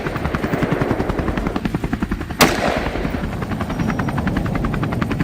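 One sharp gunshot rings out while hunting wild boar, a single loud crack cutting through the steady thumping of a helicopter rotor overhead. There are no voices.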